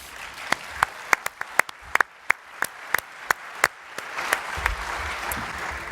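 At a cooperative's meeting, an audience applauds a working group: scattered sharp individual claps at first, then spreading into a fuller, softer round of applause from the room, moderately distant.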